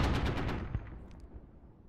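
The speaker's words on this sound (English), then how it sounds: "Shots now being fired." Rapid bursts of airsoft gunfire during a milsim operation, a quick string of sharp cracks up front that trails off into scattered, fainter shots.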